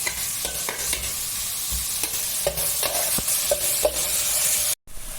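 Ingredients for beef biryani sizzle steadily in a pan while a utensil stirs and scrapes with irregular clacks, close and continuous, with a brief cut near the end.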